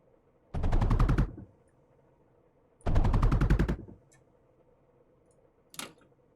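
Turrets firing in the video game Mindustry: two rapid bursts of clattering automatic shots about a second long each, then a short single burst, crisp and close with quiet gaps between.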